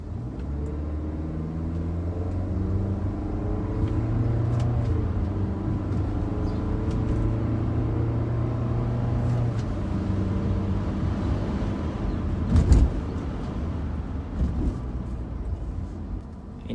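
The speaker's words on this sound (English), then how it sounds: "I'm gonna shift in the manual mode here." A brand new car drives along while being shifted in manual mode, its engine humming steadily from inside the cabin under road rumble, with a faint change in pitch as gears shift.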